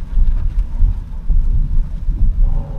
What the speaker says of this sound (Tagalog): Lakas pa rin ang ulan.